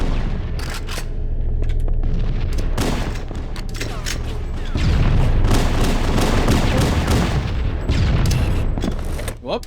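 Grenade blasts and gunfire crash through a Halo MCC match on Xbox One in repeated booms and volleys, loud and close amid busy battle noise.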